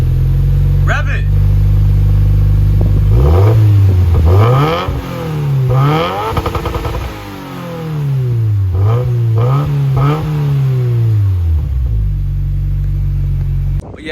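A Subaru WRX fitted with an MBRP street exhaust idles with a deep, loud burble, then is blipped through several sharp revs in two clusters before settling back to idle, close to the exhaust.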